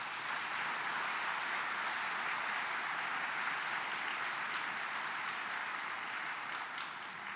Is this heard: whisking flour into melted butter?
no